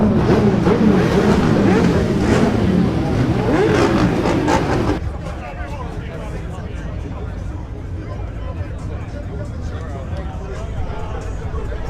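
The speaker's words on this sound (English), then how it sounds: "that's a 2JZ engine inside a BMW E30." A BMW E30 fitted with a swapped Toyota 2JZ engine at a car show, running loud and close for about five seconds before dropping to a quieter idle-like rumble, with crowd chatter around it.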